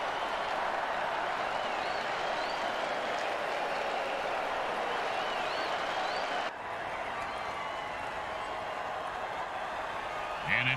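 A stadium crowd at a football game keeps up a steady, dense roar of cheering and applause for the full stretch, broad and continuous with only a brief dip partway through.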